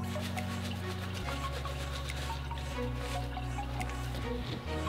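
Fluid drains in a steady stream from a Subaru EJ25 engine in a Legacy GT, Impreza WRX STI, Forester or Outback. The pour is continuous and close, with a constant mechanical hum running under it the whole time.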